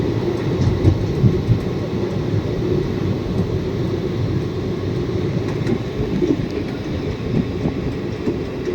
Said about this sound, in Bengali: আমাদের ট্রেন চলছে